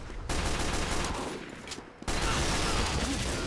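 Rapid gunfire in the video game Team Fortress 2, a loud dense burst of shots that fades briefly before another sustained volley erupts.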